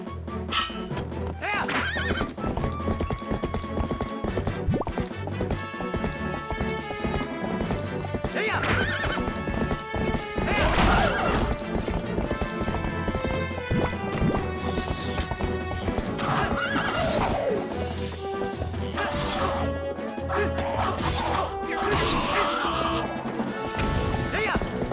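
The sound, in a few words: horse galloping and neighing in video game Twilight Princess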